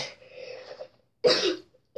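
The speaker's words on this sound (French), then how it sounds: "Je suis désolée, je tousse." A woman coughs close by, one muffled breathy cough and then a louder, harsher burst, with a short catch of breath at the end.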